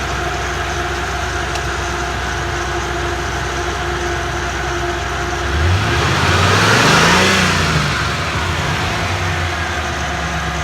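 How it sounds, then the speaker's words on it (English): A 1978 Chevy G20 van's engine idles steadily, then revs up into a loud rising roar before falling back toward idle, close to the listener with no talk. "let me rev this thing up and see if it stays balanced"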